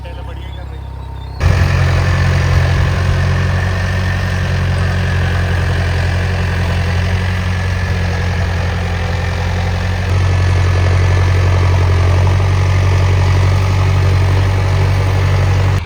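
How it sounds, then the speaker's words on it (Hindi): Mahindra and New Holland 3630 tractors run together in a line during sowing, a steady loud low diesel drone with idling rumble that swells after a brief quieter opening and holds throughout. "भाई अभी दोनों ट्रैक्टर एक ही उसमें चल रहे हैं, लाइन से आ रहे हैं।"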